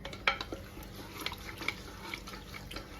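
A spice paste with red chili and coriander powder being stirred and mixed for karela gosht, soft wet scraping and occasional light clinks, close and quiet with no talking.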